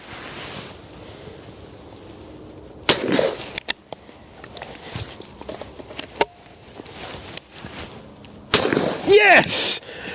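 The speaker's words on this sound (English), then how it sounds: "Right, we're going to shoot a pear." A .410 shotgun fires at a pear outdoors, a sharp broadband crack near the start followed by scattered clatter and knocks, with a second loud burst of noise toward the end.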